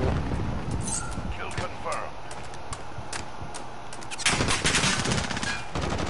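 Gunfire in a shooter video game: rapid automatic bursts and single shots crackle through the moment, growing denser near the end, with a person talking over the shooting.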